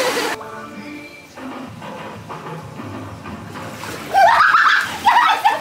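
Quiet ambient murmur outdoors in Arizona gives way to a sudden burst of splashing into a swimming pool near the end, loud and close, followed by a second splash.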